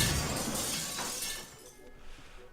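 Something smashes in the video game Thief 2, a bright crash of breaking glass that rings out and then fades away over a couple of seconds.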